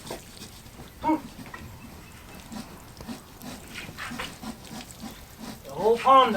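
Gloucestershire Old Spots pigs grunt and squeal in short bursts close by while they are coaxed out of a trailer, with a louder squealing call near the end and people talking over the animals.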